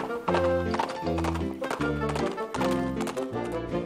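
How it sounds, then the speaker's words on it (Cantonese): A horse galloping, with loud, close hoofbeats in a rhythmic clip-clop pattern of repeated strikes, and a whinny mixed in. "但係馬仲可以奔馳"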